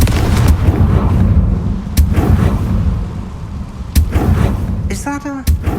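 A Confringo fire spell blast in the Hogwarts Legacy video game, heavy booming bursts over a loud, dense rumble of action, with a few sharp impacts and a brief voice near the end.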